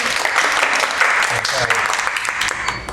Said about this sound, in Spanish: Un aplauso para Antonio.